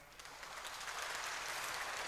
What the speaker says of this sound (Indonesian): Kita tepuk tangan sama-sama.